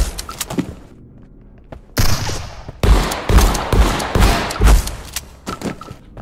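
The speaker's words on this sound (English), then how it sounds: "Right, hip fire." Bursts of hip-fired gunfire crackle in a combat video game, sparse single shots first, then dense rapid volleys with heavy thuds, loud and close.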